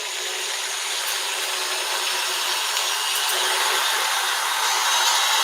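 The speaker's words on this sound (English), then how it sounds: "Let's start this drill up a little bit slowly." An electric drill fitted with a cutter, used for ammunition reloading, runs at a slow speed with a steady high whirring hum that builds slightly over several seconds, close and loud with no talk.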